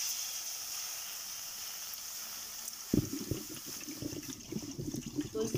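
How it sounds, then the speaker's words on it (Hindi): Water is poured into a kadai while making chocolate, a sudden splashing, gurgling flow that starts midway after quiet room tone and continues to the end. "अब हम लोग इसके अंदर ऐड करेंगे पानी।"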